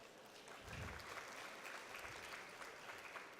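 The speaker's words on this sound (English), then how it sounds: "with a warm round of applause for our guest" A warm round of audience applause at a formal awareness program, faint and distant continuous clapping with a brief low thump near the start.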